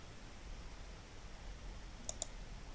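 A computer mouse clicked twice in quick succession near the end, faint sharp clicks over a quiet background hum.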